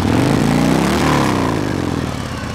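A second-hand superbike's exhaust roars loudly and close at full throttle, a deep throbbing blare that eases off slightly toward the end.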